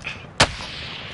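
A single sharp, loud gunshot crack in Call of Duty Warzone Resurgence, standing out from quiet background hiss and fading with a short tail.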